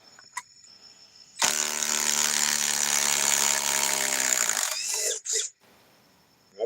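A Ryobi socket set ratchet turns in one loud, steady run of dense clicking for about three seconds, close up, followed by a couple of brief clicks and then quiet.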